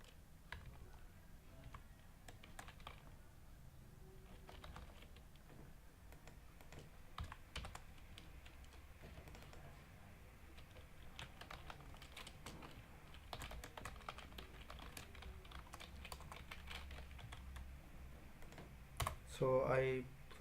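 Computer keyboard being typed on while writing code, a soft, uneven patter of close key clicks with short pauses, fairly quiet throughout, with a brief louder noise near the end.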